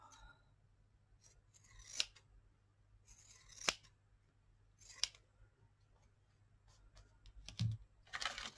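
Scissors snipping paper for a junk journal collage, a few separate quiet cuts spaced through a hushed room, each a short crisp snip.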